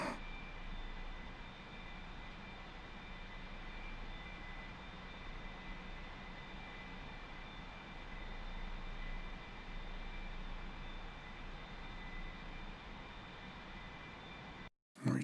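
Steady aircraft engine drone from a cruising jet in the DCS flight simulator, a continuous broadband roar with faint tonal whine, holding constant throughout before cutting off abruptly at the end.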